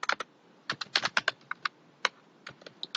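Quick bursts of keystrokes on a computer keyboard while entering an Excel formula, with irregular clusters of crisp, close clicks and brief pauses between them.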